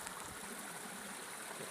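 River flowing through Lumbutts Clough in Causeway Wood, a steady broadband rush of running water, continuous and fairly faint, with no voices.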